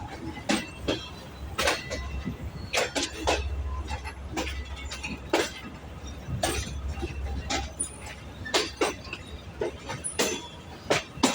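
Pakistan Railways express train rolling through the Lahore yard, heard as a steady low rumble with repeated sharp rhythmic clacks and rattles of wheels over rail joints, close and continuous from inside the carriage.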